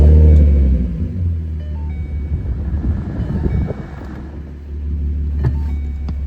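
A 2012 Ford Mustang with the 3.7 engine idles after an evap canister purge valve replacement, a loud, steady low engine rumble close by with a slight dip and recovery midway, no talking.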